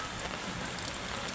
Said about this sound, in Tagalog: Umuulan, bes.